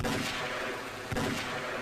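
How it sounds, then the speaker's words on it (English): Two heavy gunshots in the Half-Life VR game, a booming report near the start and another just past the middle, each trailing into a loud rumbling echo. "So we can shoot across our body."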